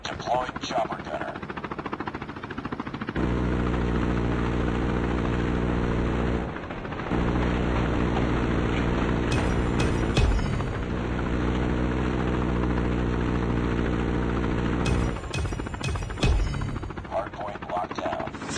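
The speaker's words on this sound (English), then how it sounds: "Deploying chopper gunner." A chopper gunner helicopter in the mobile shooter Call of Duty Mobile gives a loud, steady rotor drone that runs nearly the whole time, with scattered bursts of gunfire and short breaks.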